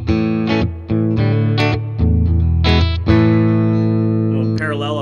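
A Fender American Ultra Telecaster with its pickups switched to series plays loud, overdriven sustained chords and a few quick restrikes, full and steady from start to finish.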